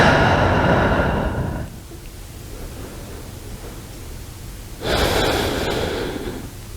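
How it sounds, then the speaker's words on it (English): Slow breath drawn in and released through the nose during a yoga pose, one long audible inhale, a quiet pause, then a second strong breath, close and clear with no talking. "breathe in and out through the nose"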